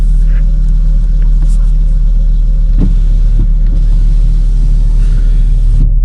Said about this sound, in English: So look, we're nearly down to idle already.